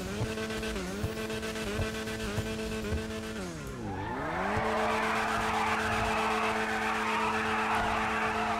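McLaren Senna 2019 in GTA 5, a steady engine drone that dips and rises in pitch, then breaks into a long, loud tire skid hissing beneath the engine until the end.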